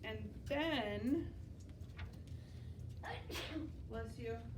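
A single sharp sneeze from a person in a classroom science lesson, fairly close, followed by a gasping breath and other voices talking.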